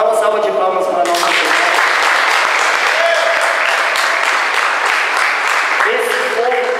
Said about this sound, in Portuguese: Dá uma salva de palmas para nós